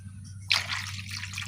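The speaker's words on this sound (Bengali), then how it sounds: "ডিমগুলো ঠান্ডা করার জন্য ঠান্ডা জল দিয়েছি।" Cold water poured over boiled eggs in a kitchen to cool them, a short splashing pour starting abruptly and trickling on briefly over a low steady hum, no speech.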